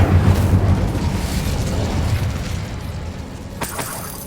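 A fiery Incendio spell blast in Hogwarts Legacy gives a loud, rumbling burst that decays over several seconds, followed by a sharp crackling flare near the end.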